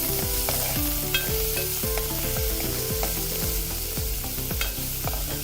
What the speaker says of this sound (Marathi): लसूण करपणार नाही याची आपण काळजी घ्यायची आहे ही आपल्याला जराशी गुलाबी होईपर्यंत परतून घ्यायचंय आहे